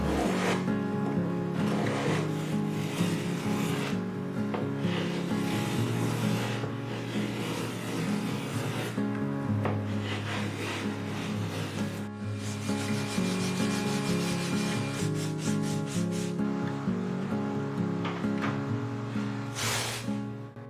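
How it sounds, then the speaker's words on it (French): Plywood edges trimmed flush after the glue has set, a steady loud rubbing, rasping cut running almost without pause for about twenty seconds, with brief changes in pitch and a short dip near the middle. "Maintenant que la colle a pris, je peux araser les bords"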